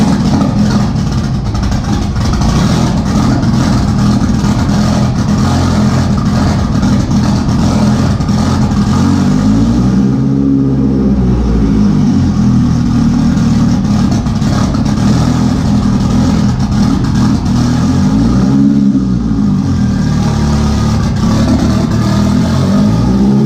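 Big turbo Jetta engine with a broken transmission running loudly and roughly, with two swelling revs partway through, steady and close throughout.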